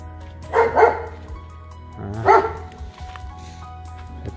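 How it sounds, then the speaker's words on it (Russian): A neighbor's dog barks at night in two short bursts of a couple of barks each, moderately close, with a quiet background between them. "Это начинается игра с соседской собакой."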